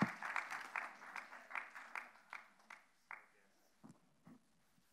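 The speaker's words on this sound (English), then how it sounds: "clap, because that is a miracle" Sparse, faint applause from a church congregation on Mission Sunday, a handful of distinct claps slowing and thinning out to a few last isolated ones.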